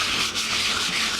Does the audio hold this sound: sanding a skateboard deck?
yes